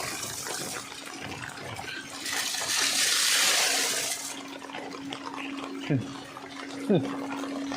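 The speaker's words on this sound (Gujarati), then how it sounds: "ઘણું પાણી નીકળી ગયું" Water drains out of a rain-flooded muddy spot in a rural Gujarat setting, a rushing gurgle that swells in the middle and then subsides, with people talking over it.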